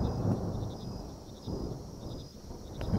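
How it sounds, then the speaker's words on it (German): Thunder rolls in a low, distant rumble through a stormy scene in the game September 7th, with soft wind and rain-like hiss underneath and no voices. "Oh, das Gewitter, ey."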